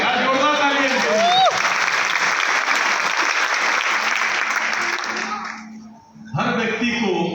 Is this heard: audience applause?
yes